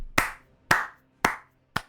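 Four sharp, separate hand claps, evenly spaced and close, each ringing out briefly in an otherwise quiet space.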